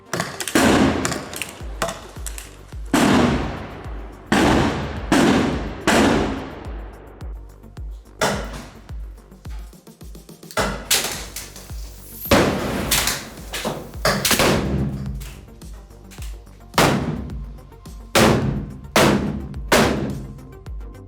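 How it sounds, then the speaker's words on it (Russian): A series of loud, sharp pops and thumps from an ICS MGL six-shot airsoft grenade launcher fire in irregular bursts, each with a short echoing decay, close by and without talk. "можно сделать несколько выстрелов в укрепление или окна, и противник просто физически не сможет убежать от серии взрывов"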